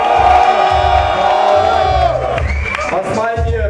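Rap battle audience at a 1on1 event in Munich cheering and shouting loudly to vote for the winner, a dense crowd roar with whoops and some clapping running continuously, with a host's voice partly over it.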